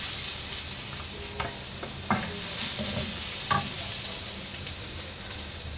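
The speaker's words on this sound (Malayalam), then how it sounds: "ഇതിലേക്ക് എടുത്തു വെച്ചിരിക്കുന്ന തേങ്ങ ഇട്ട് കൊടുക്കാം" Grated coconut is stirred in a hot pan over a steady, moderate sizzle, with a few scraping stirs and light knocks of a utensil at irregular intervals.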